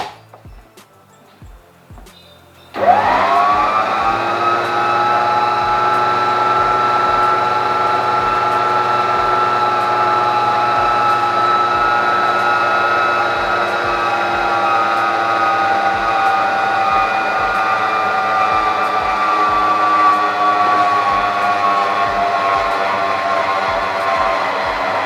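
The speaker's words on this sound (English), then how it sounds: "I'll allow it to mix for another 3 minutes." An electric mixer beats softened shortening with sieved icing sugar for a lemon sponge cake. After a brief quiet moment the motor kicks in with a loud, steady whine that holds unbroken for over twenty seconds.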